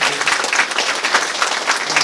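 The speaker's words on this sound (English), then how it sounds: "give them a round of applause" Dense applause from a racing banquet crowd honoring EMTs and volunteer firefighters, steady and loud throughout with no talk over it.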